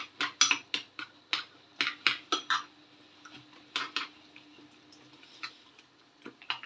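Chicken curry being stirred in a dish, with a series of sharp clinks and scrapes of a utensil against the dish in quick irregular bursts, close and fairly quiet, no talking.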